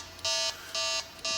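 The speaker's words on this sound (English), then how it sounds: "Now the alarm is blowing, and the LED is blinking" Door security system alarm with motion detection, set off by a wrong PIN entry, buzzes in three loud, steady electronic bursts separated by short gaps, close to the microphone with no talking.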